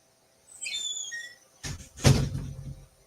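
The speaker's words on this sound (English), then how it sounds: "I'm going to close my door real quick" An indoor door closes: a short squeak followed by two dull thuds close to the mic, with no one talking.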